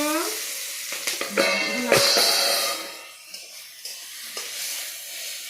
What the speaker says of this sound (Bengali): লঙ্কা দিব, ভাজো ভাজো